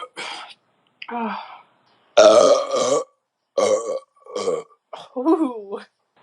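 A run of loud, drawn-out beer burps after chugging beer, several long and croaky, with brief pauses and throaty sounds between them, close up.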